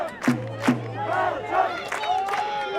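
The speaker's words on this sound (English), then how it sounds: "Crowd really getting into it now." Crowd noise at a youth under-17 mixed ultimate frisbee match between Belgium and Romania, with shouts and cheering voices rising in short bursts, and a commentator-like voice heard among them.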